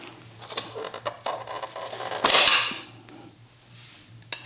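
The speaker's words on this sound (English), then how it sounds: "Breaking a few tabs as I go though." Plastic tabs on a Honda Super Cub C125 trim ring snap during removal, a few small creaks and clicks, then one loud sharp crack about halfway through, close up over a low electrical hum.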